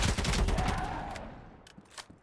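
A burst of rapid gunfire in the mobile shooter ZOZ Final Hour, loud at first and then trailing into a fading echo, with a couple of faint clicks afterward.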